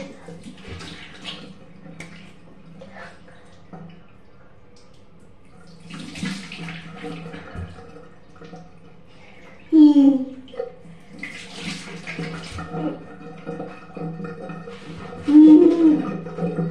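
Water runs from a tap into a basin for face washing, a steady splashing stream with louder bursts as hands scoop and splash. A voice speaks briefly over it.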